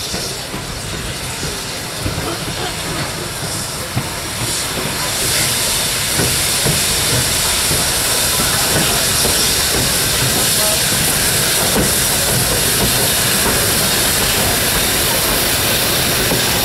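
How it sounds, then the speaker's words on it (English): A steam locomotive rolls into a station platform at a winter steam gala on the Great Central Railway, giving a loud, continuous hiss of steam with a rumble and clatter of wheels that grows as it draws near. "Please stand well clear from the edge of the platform as the train enters the station."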